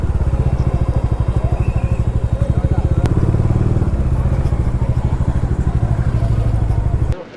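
Motorcycle engine idling and chugging loudly close by with a steady rapid pulse as the bike is moved to a parking spot at an entry in Uttarakhand near Gangotri, cutting off abruptly near the end.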